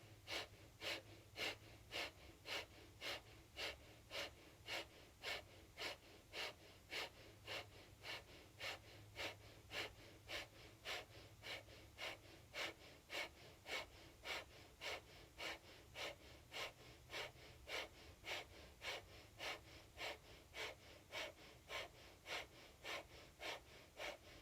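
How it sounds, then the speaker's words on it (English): Steady rapid nasal panting of breath-of-fire yoga breathing, quick rhythmic sniff-like exhalations repeating evenly for the whole stretch, close and faint, with no talking. "begin breath of fire, panting like a dog through the nose"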